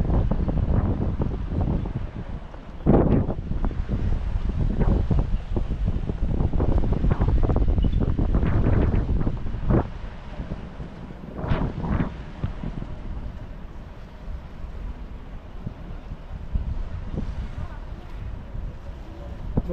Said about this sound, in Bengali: জলের আওয়াজ গর্জন কত বলুন